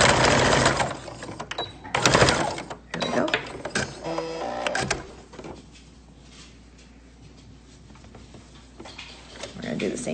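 A home sewing machine stitches in reverse to lock the seam on a fabric face mask, giving a loud, close mechanical whir in bursts that fades to a quieter hum, with a voice talking over it.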